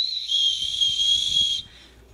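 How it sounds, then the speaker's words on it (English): A travel backpack's chest-strap safety whistle gives a short, shrill, steady tone lasting about a second and a half, then cuts off, played softly without talk. "It's a safety whistle should you need it."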